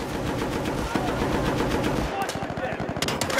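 In the Xbox 360 shooter Battlefield: Bad Company, a .50 caliber machine gun fires rapid, loud bursts of close, hammering shots that run steadily before breaking into distinct pulses near the end.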